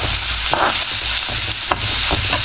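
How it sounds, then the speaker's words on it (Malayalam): Finely chopped shallots tossed into spluttered mustard seeds in hot oil, sautéing with a loud close sizzle and brisk spatula scrapes and knocks against the pan, no voices. "ചെറിയുള്ളി ചെറുതായിട്ട് അരിഞ്ഞ് വെച്ചത് ഞാൻ ഈ കടുക് കൊട്ടിയതിനകത്തോട്ട് ഇടുവാണ്. ചെറിയ രീതിയിലൊന്ന് വഴറ്റി കൊടുക്കുക."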